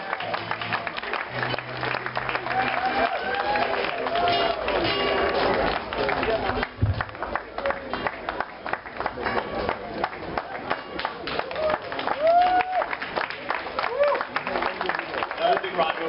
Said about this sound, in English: Another big round of applause for Lingo and Nancy.